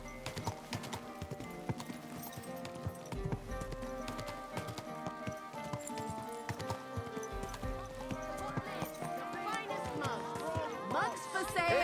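Horse hooves clip-clop steadily in the medieval video game Kingdom Come: Deliverance II, with a neigh and game music in the mix and voices talking over the top.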